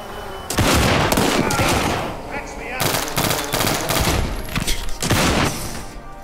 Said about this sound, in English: That's an airstrike.